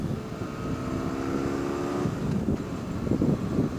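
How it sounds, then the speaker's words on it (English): A motorcycle with a Remus exhaust rumbles with a low exhaust note, revving slightly toward the end, heard with wind buffeting the microphone while riding. "Ooh, that Remus exhaust sounds pretty good today."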